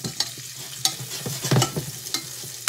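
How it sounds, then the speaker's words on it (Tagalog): Chopped onion sautéed in a pan for a vegetable dish, stirred with sharp spatula scrapes and clicks over a low, steady sizzle, close and alone with no voices. "Gisa-gisa lang natin na dyan."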